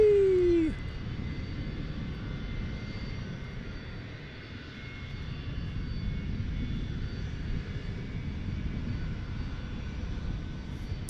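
An MD-11 jet passing at Dallas Fort Worth International Airport, a broad steady engine roar that dips midway and swells again, continuous and fairly distant.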